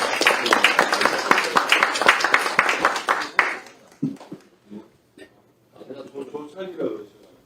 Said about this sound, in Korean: 이렇게 모셨으니까 우리가 큰 박수로 한번